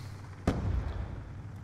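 War Machine grenade launcher firing in the Black Ops 2 video game, one sharp blast followed by a rumbling low boom that fades slowly, heard alone against game background noise.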